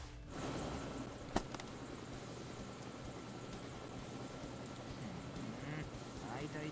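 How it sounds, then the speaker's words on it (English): Helicopter in a video game, a steady rotor and engine roar held at an even level throughout, with one sharp click near the start. "Where did a helicopter show up here?"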